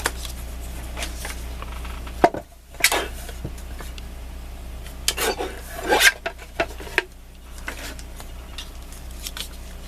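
Paper being cut for card making, heard as a few short, close rasping and rubbing strokes spread across a quiet background.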